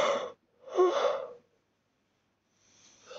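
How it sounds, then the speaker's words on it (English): A video game character yawns and breathes heavily in two drawn-out, breathy bursts, with a fainter airy exhale trailing in after a pause, close and fairly loud. "Oh, I cannot stop yawning."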